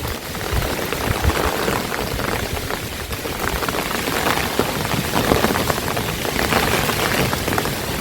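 Steady heavy rain during Cyclone Remal, a dense, continuous close-up hiss and patter of drops on surfaces, unbroken and fairly loud throughout.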